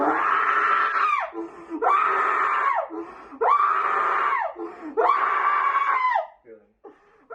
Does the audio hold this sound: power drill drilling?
no